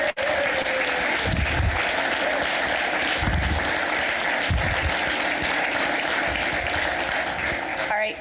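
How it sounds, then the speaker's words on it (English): Audience applause for committee members at a Sunday service, a full, sustained wash of clapping from a sizable crowd, steady and loud throughout with a few thumps beneath. "a big round of applause for these RE committee members"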